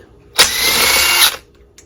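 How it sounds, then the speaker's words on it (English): An impact drill with a 1/2 inch socket whirs once in a steady burst of just under a second, removing a nut on a vintage Johnson Evinrude outboard motor flywheel, starting and stopping abruptly, loud and close, with quiet before and after. "take your impact drill with a 1/2 inch socket and take off the nut"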